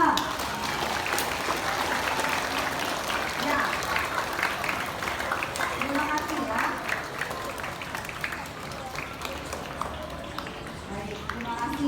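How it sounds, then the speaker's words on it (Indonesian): Students clap during a school flag ceremony at a primary school, a continuous ragged round of applause that runs the whole clip while a teacher speaks briefly over it. "Beri tepuk tangan"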